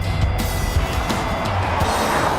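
Jaguar F-Pace with the 2-litre Ingenium diesel driving through a run of corners, a steady low engine drone with road and tyre noise continuing without pause, heard close from inside the car.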